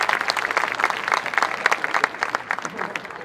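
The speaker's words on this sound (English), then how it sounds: "we can give a round of applause" Audience at an outdoor concert claps for the color guard, a short burst of steady, moderately loud applause lasting a few seconds.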